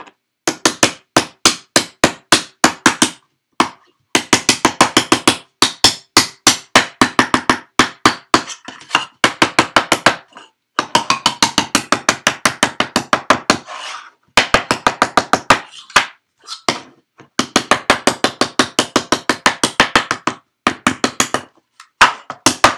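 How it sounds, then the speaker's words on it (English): Repeated hammer blows while a board game organizer is built, likely on wood, falling in fast rhythmic bursts of loud, close, sharp strikes separated by brief pauses. "I'm sure it just sounds great when I'm hammering on that."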